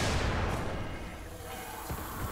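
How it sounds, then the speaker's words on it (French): Explosions in the video game Dying Light, a loud booming blast at the start that rolls off into a long rumbling decay, with a fainter thud later, no talk. "je m'attire toutes les explosions là"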